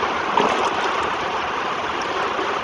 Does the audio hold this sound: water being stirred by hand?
yes